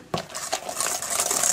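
A wire whisk stirring kosher salt and baking powder in a bowl, quick light metallic scraping and clinking in a steady rapid rhythm, close and fairly quiet.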